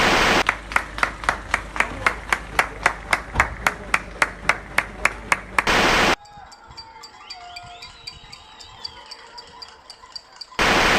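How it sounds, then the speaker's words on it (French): A crowd in Provence applauds healthcare workers at the 8 pm salute, with loud, steady rhythmic clapping for about six seconds before it cuts to a quieter, murmuring background. "Bien sûr que ça nous fait chaud au cœur les applaudissements à 20h"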